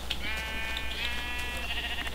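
Sheep bleating in the Minecraft video game, a wavering, quivering bleat that stretches across most of the moment, moderately loud and alone with no talk.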